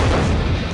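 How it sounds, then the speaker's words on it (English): A loud, deep explosion boom from the Monster Trucks film trailer, a short dense blast with no voices over it. "Kids will love this movie because explosions"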